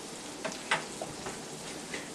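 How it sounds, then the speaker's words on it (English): Kasseri cheese sizzles in olive oil in a frying pan, a soft, steady crackle close by, broken by a few small pops and spits. "we have the Kasari cheese bubbling away here on the olive oil in the frying pan"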